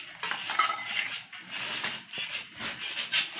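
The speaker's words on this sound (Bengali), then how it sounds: "এই তরকারিটা আমি লাড়ি" A vegetable curry is stirred in a cooking pot, giving soft, irregular scraping and metallic clinks of a utensil against the pot over a few seconds; no talking.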